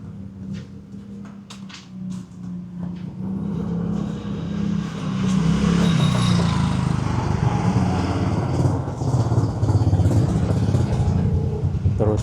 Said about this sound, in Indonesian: Jadi lalu lalang kendaraan juga masih cukup ramai sebagai alternatif